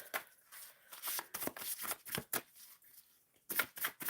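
Tarot cards being shuffled by hand in quick bursts of riffling and slapping, close and crisp, with brief pauses between rounds and no talk over it.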